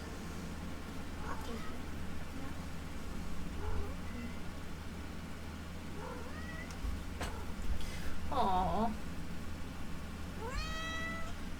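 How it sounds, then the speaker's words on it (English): A cat meows in a video game, giving several short mews and then a rising, wavering call near the end. A person talks quietly at times over a low, steady background. "What does my kitty want?"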